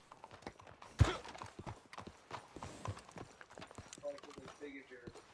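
A horse walks in Red Dead Redemption 2, its hooves clip-clopping in a steady, fairly quiet rhythm with one sharper knock, while people talk over it and faint musical tones enter near the end.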